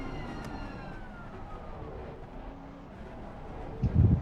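A police siren wails in a racing video game, its sweeping tone rising and falling faintly in the distance beneath a low engine and wind rumble, ending with a short louder thump.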